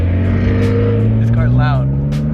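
BMW E36 M3 engine droning loudly and steadily from inside the car while driving, a strong low rumble with a rising whine, voices talking over it in the cabin.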